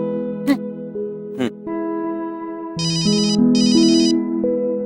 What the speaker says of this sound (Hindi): फोन लगाया जाए